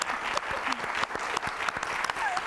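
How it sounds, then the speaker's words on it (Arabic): A studio audience at a talk show about women who defied judgments of their looks and weight applauds steadily, with a voice talking over the clapping throughout. "تصفيق"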